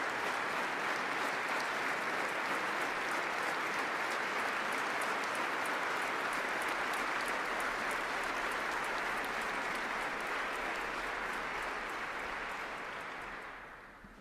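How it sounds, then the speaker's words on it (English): Standing applause in City Hall for the Nobel Peace Prize laureates at the award ceremony, a large hall's dense, even clapping sustained for about thirteen seconds before tapering off at the close. "Everyone in City Hall on their feet in applause for the words of this year's Nobel laureates."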